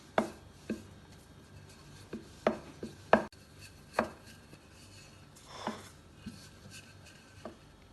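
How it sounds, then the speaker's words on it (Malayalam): Mawa gujiya dough being rolled out on an oiled wooden chapati board with an oiled rolling pin, giving quiet, irregular wooden knocks and soft rubbing strokes. "ഇതിന് ചപ്പാത്തി പലകയിൽ വെച്ച് പരത്തിയെടുക്കാം."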